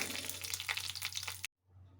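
Curry leaves crackle and sizzle in hot oil, a brisk, moderately loud frying hiss with tiny pops over a low hum, cut off abruptly into near silence.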